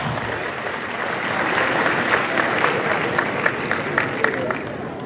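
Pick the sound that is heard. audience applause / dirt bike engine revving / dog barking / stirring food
audience applause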